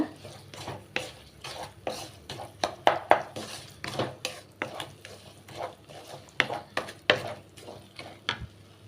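A utensil stirs jaggery syrup into a chana dal mixture for Diwali suzhiyam, scraping steadily against the pan in a quick, regular rhythm, close and clear with no voices.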